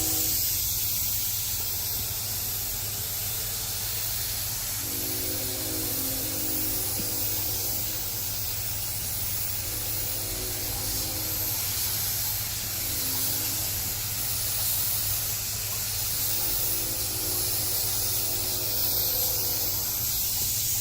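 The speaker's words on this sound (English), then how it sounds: "We're going to put our other glove on, spray our film, dip it," Activator is sprayed onto hydro dipping film in a steady, loud continuous hiss lasting the whole stretch, with a faint tonal hum underneath.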